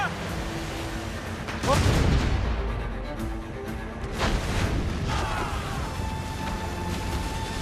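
Ship cannons fire during a naval battle in Assassin's Creed Rogue, with heavy booming blasts and crackling bursts over rumbling sea and wind, while a crew voice shouts in between.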